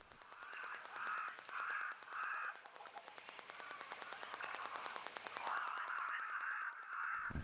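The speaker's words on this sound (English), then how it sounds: "Of course, those crows." Crows cawing outdoors in a series of harsh, repeated calls, several bursts in a row with a short pause partway through, fairly close and clear against a quiet background.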